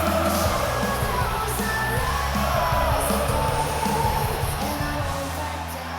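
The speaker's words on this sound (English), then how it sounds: "The crowd loves them some Sami Zayn" A wrestling arena crowd in the WWE 2K26 video game cheers and yells in a continuous loud roar, with a busy mix of game sound underneath throughout.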